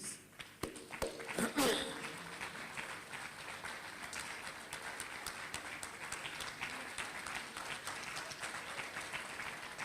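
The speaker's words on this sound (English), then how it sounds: "I'd like them to stand up so we can give them an applause" Audience applause for board members standing at a 30th anniversary celebration: scattered, fairly faint clapping with sharp claps near the start, settling into a continuous patter of hands with some movement noise.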